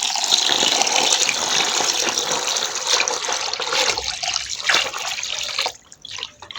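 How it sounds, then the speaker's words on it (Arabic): Three litres of homemade fabric-softener liquid being poured into a container: a steady, close gushing stream that tapers off into a few trickles and drips near the end. "هبتدي ان انا اصب 3 لتر كمان"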